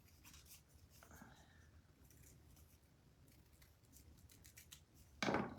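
Scissors trimming a small paper craft tag, soft close snips over faint background noise and quiet speech, ending in a louder rustling cut.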